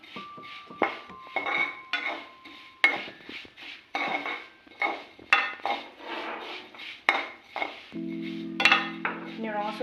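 A metal spoon scrapes and clinks repeatedly against a pan as vermicelli (sewai) is stirred while frying over low heat for an Assamese sweet dish, with steady close knocks and a brief tonal hum near the end.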